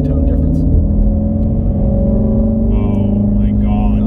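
A Ford Mustang GT350 in sport mode held on throttle gives a loud, steady low exhaust drone from inside the cabin, with brief higher engine tones near the end.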